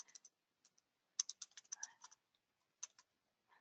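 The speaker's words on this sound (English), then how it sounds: "you can create your own auto comment by just typing" Keys on a computer keyboard clatter in quick, scattered bursts of light clicks with short pauses between them, quiet and close, with no voices.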